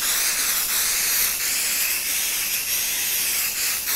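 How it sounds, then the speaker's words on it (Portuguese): Temporary adhesive spray can misting onto fabric layered over batting for a baby maternity bag, a steady continuous hiss held close for several seconds without pause. "Aí, eu venho com um spray temporário,"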